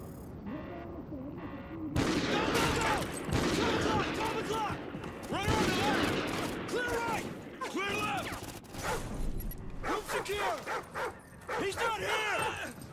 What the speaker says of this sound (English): Use the remote sniper. We'll breach on your shot.